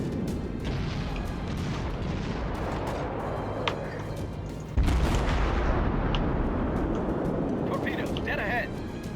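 Naval battleship gunfire in the World of Warships video game, repeated heavy booms and explosions rolling over a continuous roar of in-game battle noise, louder in the second half, with someone talking over it.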